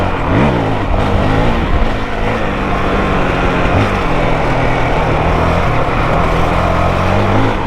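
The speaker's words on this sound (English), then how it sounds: "Engine sounds like she's happy." A 2023 Honda CRF450X dirt bike engine running hot after a thermostat delete, loud and close, a steady throbbing drone with slight shifts in pitch and no voices.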